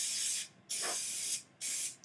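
Baking spray hisses into a baking dish in three short, close bursts with brief pauses between them and no talking.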